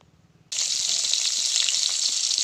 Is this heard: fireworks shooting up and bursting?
no